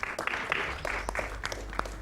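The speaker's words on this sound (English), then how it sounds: "Applause for that." Light applause from a small group at a Games Done Quick speedrunning marathon during a Portal 2 run, scattered claps with a few sharp spikes, fairly faint and brief.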